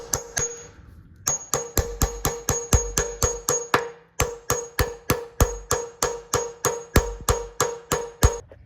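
A hammer strikes a 12 mm socket to drive out a bearing during a 1986 Foxbody Mustang build. About thirty sharp, ringing metallic blows land in fast, steady bursts, close and loud, with one brief pause.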